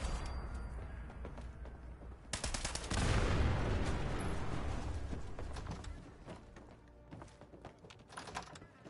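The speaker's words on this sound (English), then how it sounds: "I threw a grenade, thinking it was gonna get them all." A grenade blast in the online game Fallout 76, heard as a loud booming burst that swells and lingers as a rumbling roar for several seconds amid gunfire-like crackles, with no talking.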